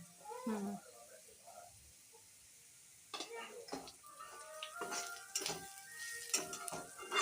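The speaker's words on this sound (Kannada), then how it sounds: "ಇದನ್ನು ಈ ಥರ ಗೋಲ್ಡಾಗಿ ಫ್ರೈ ಆದಮೇಲೆ ಇದಕ್ಕೆ ಉಪ್ಪು ಹಾಕಬೇಕು" Drumstick leaves fry golden in a pan with a soft, close sizzle, joined by light stirring clinks against the pan while a voice talks over it.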